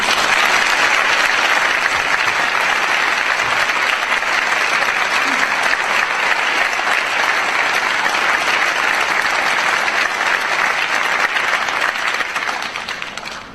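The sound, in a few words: audience applause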